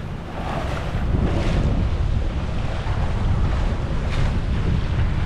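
Strong wind roaring against the microphone with heavy swell surging and splashing around a sailboat heading upwind after departing the British Virgin Islands, a loud, continuous rush without pause.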